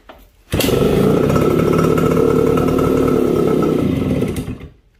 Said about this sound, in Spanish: La moto prendió ahí.